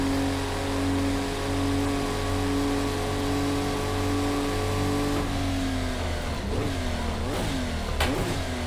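A car engine in Project Cars 2 holds a steady, high drone for several seconds, then blips and revs repeatedly in quick bursts as the driver heel-and-toes through downshifts. The engine sounds loud and close, with no voices.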